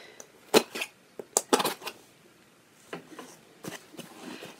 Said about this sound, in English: If you hear rustling in the background, it's because my cats are playing with a catnip bag.